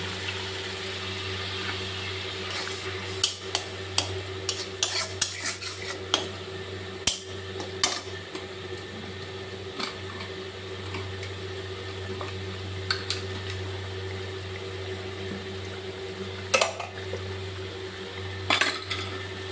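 A utensil scrapes and clinks against a kadai while fish posto with tamarind water is stirred, giving irregular metallic taps and scrapes over a steady low hum, with no talking.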